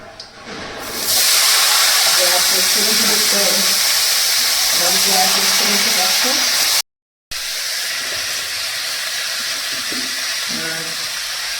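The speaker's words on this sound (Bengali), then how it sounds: "এই তরকারিটা বসিয়ে দিচ্ছি সবজির তরকারিটা" Vegetable curry cooking in a pan, a loud steady sizzle and steamy hiss that starts after a second and runs on almost unbroken, with a voice talking faintly underneath at times.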